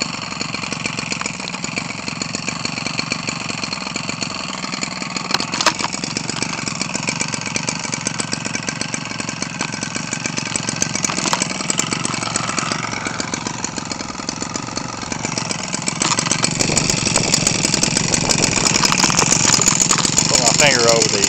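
Echo 25cc two-stroke RC model engine runs steadily and loud the whole time, a buzzy high-pitched drone that grows a little louder and harsher near the end.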